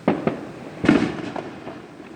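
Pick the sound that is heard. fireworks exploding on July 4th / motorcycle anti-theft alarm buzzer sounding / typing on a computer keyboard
fireworks exploding on July 4th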